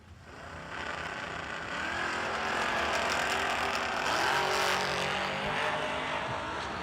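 Drag racing at the Bernie Mann Memorial No Delay Nationals, a Camaro against a Roadster, roaring loudly and steadily as the cars run down the strip, engine noise swelling and holding broad and continuous without speech.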